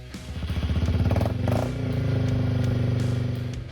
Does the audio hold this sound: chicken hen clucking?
no